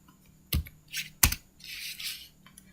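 Two sharp, close keystrokes on a computer keyboard, a Ctrl+S save while writing JavaScript in Node.js, stand out separately amid quiet, softer brushing and clicking noises.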